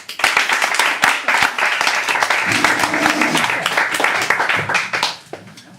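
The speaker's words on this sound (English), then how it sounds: "So, more applause, please." An audience claps after a poetry reading, with sharp, distinct individual claps in a moderate crowd. A brief murmur of voices comes partway through, then the clapping thins and stops.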